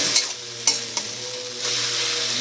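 Mashed eggplant stirred in a hot wok, a steady sizzle of frying with a few sharp scraping clicks of the spoon, close and alone without talk.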